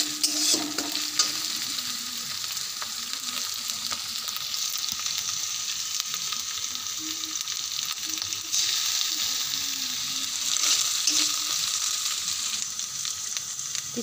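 Spices and ginger-garlic paste fry and get stirred in a village kitchen while mustard hilsa is cooked, a steady close sizzle with scraping stirs and clatter throughout, no one talking.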